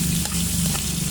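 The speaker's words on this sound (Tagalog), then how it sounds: "Nakapagpirito ako ng sislim tokwa." Tofu sizzling steadily in a pan heated only by the sun outdoors, a continuous close, even frying hiss with faint crackles and no talk.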